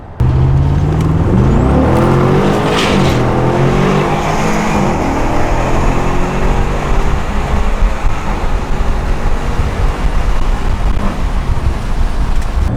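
Jeep Wrangler SUV engine revving while driving, a loud continuous drone with rising and falling pitch as the throttle opens, steady throughout with no talk.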